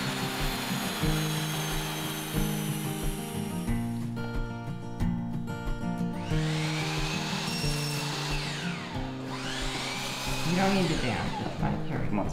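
A power saw rips cedar 1x4 boards lengthwise in half, a loud continuous whining tone with shifting pitch as the blade bites and sweeps through the wood, close by.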